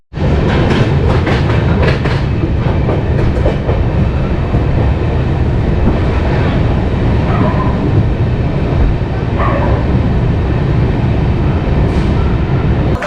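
The Avantika Express passenger train running on the tracks between Mumbai and Indore, a loud, close, continuous rattle and clatter of wheels and carriages with rhythmic clicks from rail joints.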